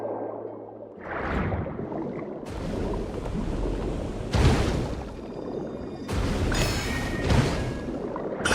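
Video game rain hisses steadily throughout while low rumbles of thunder roll in and out, rising and falling several times, with no talking.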